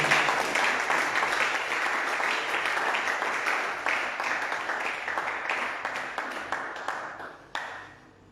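A church congregation applauds the Lord in steady, dense clapping that fills the room, loud and sustained, then tapers off with a last burst near the end.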